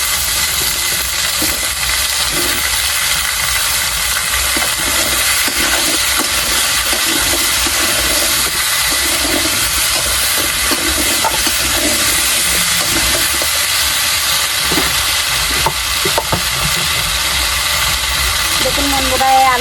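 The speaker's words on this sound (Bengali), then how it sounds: "এবার আমি কড়াইতে আলুগুলো ছেড়ে দিচ্ছি দেখুন এই আলুগুলো এই তেলে কষিয়ে নেব" Potatoes, big home-grown ones and yam-like, frying in oil in a wok, a steady broadband sizzle that holds loud and even throughout, with occasional stirring clatter and faint background noise.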